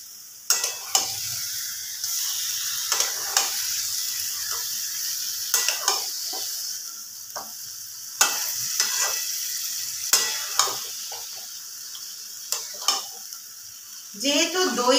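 Chicken kosha being stir-fried with yoghurt and spices in a pan: a constant hissing sizzle broken by repeated scraping, clattering strokes of a spatula at an irregular, steady pace, close up and without speech.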